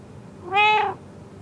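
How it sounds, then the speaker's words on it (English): A cat gives a single clear, fairly loud meow, rising then falling over about half a second against quiet background, with no speech. "It is a cat."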